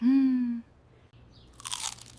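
A bite into a crunchy honey and pistachio layered pastry makes a short burst of crisp, close crackling after a brief hum and a quiet pause.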